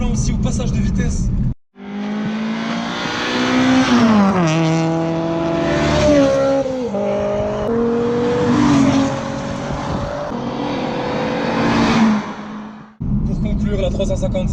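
A Nissan 350Z accelerates hard through the gears, its engine note climbing in pitch and dropping sharply at each upshift, loud and close throughout, with talk at the very start and end.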